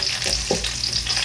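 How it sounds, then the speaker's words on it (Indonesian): Raw shrimp paste (terasi) frying in oil with bay leaves, a dense, steady sizzle with light stirring scrapes, close and continuous with no talk. "jadi ini sekaligus kayak menggoreng terasinya"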